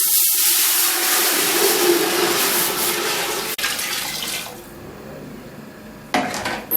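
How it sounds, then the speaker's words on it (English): Banga water pours steadily into a cooking pot for a bitter leaf soup (ofe onugbu). The rushing splash is loud and continuous, then softens near the end, with no talk over it. "Now the first thing, I'm going to put banga water."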